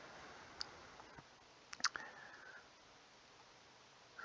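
Sparse, faint computer mouse clicks while working through a Rolemaster Classic session in Fantasy Grounds: a lone click, then a quick cluster of two or three near the middle and one more at the very end, over quiet room hiss.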